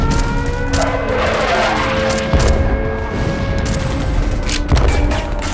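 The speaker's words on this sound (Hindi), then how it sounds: "उस सुबह कारगिल की पहाड़ियां गूंज उठी टैंकों तोपों की गर्जनाओं से" Tank and cannon fire thunder across the Kargil hills in wartime, a dense continuous barrage of booms and rattling gunfire with heavy impacts near 2.3 and 4.7 seconds, loud and unbroken throughout.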